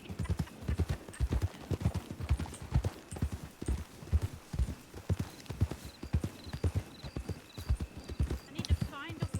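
Steady, rhythmic clip-clop of horse hooves from a mount in the video game Red Dead Redemption II, the beats even and close throughout, with a faint whinny-like sound near the end.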